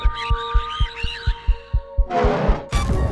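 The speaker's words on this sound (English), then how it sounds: "Warning, your heartbeat is increasing rapidly." Heartbeat sound effect from the video game The Space Between, a steady run of about ten deep, evenly spaced thumps under a tonal hum, ending in a burst of bright static-like noise.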